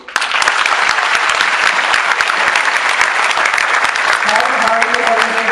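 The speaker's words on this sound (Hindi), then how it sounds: "सबसे पहली ताली और सबसे जोरदार ताली आप अपने लिए बजाइए" An audience at an Urdu poetry mushaira held at an institute's annual event breaks into loud, steady applause that carries on evenly throughout, with crowd murmur beneath it.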